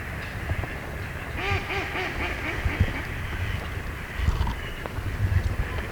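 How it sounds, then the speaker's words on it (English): Several duck hens quack in quick, repeated calls over a soft outdoor background, moderately close and fairly steady throughout. "you'll hear the hens quacking and the drakes"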